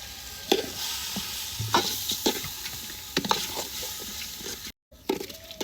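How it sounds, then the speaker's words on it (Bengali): Rice and fried onions are stir-fried in a pan for khichuri, a soft sizzle underneath repeated scraping and clattering spatula strokes that come in irregular bursts, with a brief break near the end. "চালটা আমার ভালোভাবে ভাজতে হবে, চাল লাল।"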